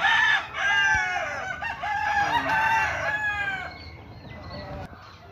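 A fighting rooster crows loudly up close, a long strained call, followed by softer clucking and scratchy chicken noises.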